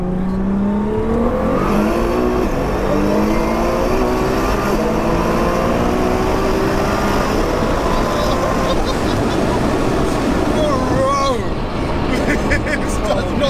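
A tuned 1576 bhp Nissan R35 GT-R street car engine revs up and pulls hard, its pitch climbing steadily through the gears, loud and close, with voices talking over it.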